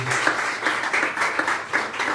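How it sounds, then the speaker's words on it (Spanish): Spectators at a theatre history exhibition and talk during a first festival in Barbosa clap in short, pulsing bursts, a moderately close round of applause with an almost rhythmic beat. "bacano recibirlos con un aplauso"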